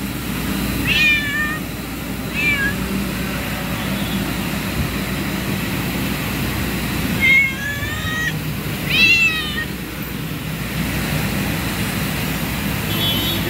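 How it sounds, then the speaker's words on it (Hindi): A hungry cat in Mumbai meows four times, two short calls and then two louder ones, clearly above a steady low rumble of nearby traffic. "यहाँ पे बिल्ली है, बहुत भूख लगी उसे"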